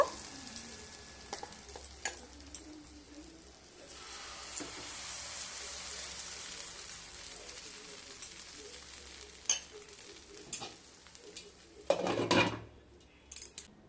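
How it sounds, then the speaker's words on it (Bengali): Semolina pancakes frying in a pan, a quiet sizzle broken by clinks and scrapes of a utensil against the pan, with louder clattering bursts near the end. "সমস্ত প্যানকেকগুলোকে ভেজে তুলে নেব।"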